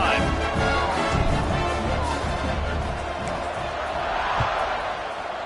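Stadium crowd noise in a college football video game, UNT against Temple: a steady, loud roar of a cheering crowd fills the whole stretch, with scattered bursts and thuds rising out of the wash.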